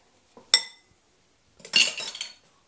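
A utensil clinks once against a bowl, then a short scraping, rustling stretch follows as seasoned flour for coating pheasant legs is stirred. Close and fairly loud, with no voices.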